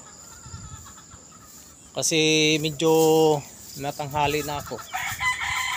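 At a backyard farm at feeding time, a rooster crows loudly in a long harmonic call mid-clip while chickens cluck around it; someone speaks quietly at the start.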